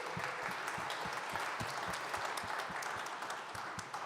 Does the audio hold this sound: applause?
yes